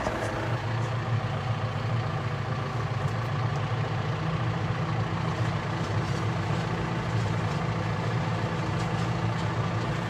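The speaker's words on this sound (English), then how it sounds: "Just put the tractor into gear here and we'll pull ahead a little bit." A farm tractor pulling a corn planter runs with a steady low diesel drone and rattle, continuous and fairly close, no voices heard.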